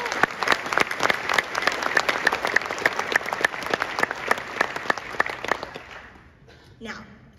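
An audience at a banquet claps steadily after a national anthem performance, moderately loud with sharp individual claps, tapering off after about six seconds, followed by a brief voice.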